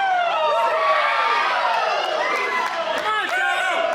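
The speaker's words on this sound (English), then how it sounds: "You can hear the crowd support for him" A wrestling crowd at an APW Below Zero event cheers and chants loudly for the wrestler Toa, a dense roar of voices that rises and falls across the whole moment.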